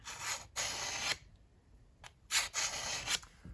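A Stihl 3-in-1 sharpening tool rasps across a garden tool blade in a series of close, gritty strokes of uneven length, with short quiet gaps between passes and no talking.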